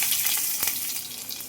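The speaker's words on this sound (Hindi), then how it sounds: "अब इसमें डाल देंगे हम प्याज" Chopped onions hit hot oil tempered with mustard seeds in a pan, giving a steady, close, bright sizzle with crackles throughout.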